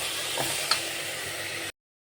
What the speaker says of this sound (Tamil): தக்காளி வதங்கிய பின் சிக்கனை சேர்த்துவிட்டு நன்றாக இதிலேயே நன்றாக வேக வேண்டும் சிக்கன்